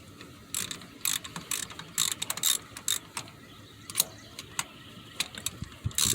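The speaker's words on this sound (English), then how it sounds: "So we're gonna remove these 3 nuts right now" Ratchet wrench loosening the engine mount nuts on a 2006 Mitsubishi Outlander during a timing belt job, giving bursts of rapid close clicking separated by short pauses, with no talk.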